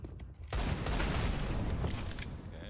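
Rapid gunfire in Counter-Strike 2, a dense continuous burst of shots starting abruptly after a quiet moment and running steadily loud to the end.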